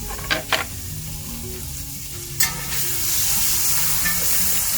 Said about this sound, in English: It goes straight into the pan, sizzling away and releasing that glorious fat and smoky aroma.